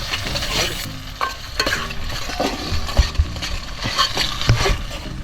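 Chicken frying in a pan outdoors in a forest, a loud steady sizzle with scraping stirring strokes and occasional metallic knocks throughout.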